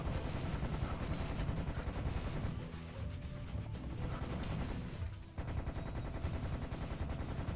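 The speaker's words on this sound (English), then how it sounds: "I think the Tommy gun might actually be our best bet here." Rapid automatic fire from a Tommy gun in the video game Serious Sam HD, a sustained loud rattle that dips briefly partway through and then resumes just as heavily.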